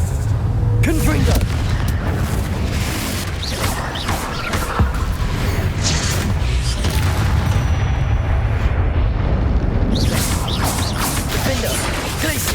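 Explosions from the Confringo spell in the Hogwarts Legacy video game, loud booming blasts and crashing debris over dense battle noise, with shouted spell voices mixed in.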